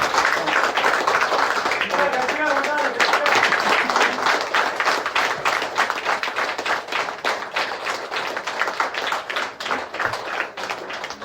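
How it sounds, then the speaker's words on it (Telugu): A large audience claps together in a standing ovation during a spiritual discourse, sustained applause with some crowd voices mixed in. It stays dense and loud throughout, then gradually thins toward the end. "అందరూ ఒక్కసారి లేచి నుంచుని మన చప్పట్లతో కరతాళ ధ్వనులతో"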